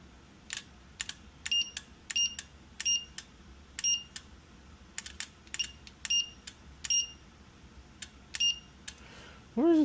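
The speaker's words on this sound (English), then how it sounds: "This beep. Is it from the board?" A high electronic beep from a wine cooler's control board repeats in short bursts, roughly once or twice a second, fairly loud and clear against a quiet hum.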